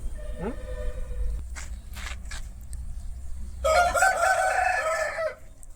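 A single Kakinemali fighting rooster crows loudly and close by, a drawn-out call near the end, following a few brief scattered noises.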